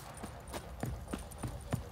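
Horse hooves clip-clopping at a steady walking rhythm in The Witcher 3 video game, about seven even hoofbeats, moderately close over a soft ambient background, with no talk.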